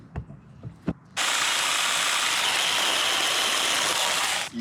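A power tool cutting back apple tree branches starts after a couple of brief knocks, then runs as a loud, steady, continuous whine and buzz for several seconds close by before cutting off.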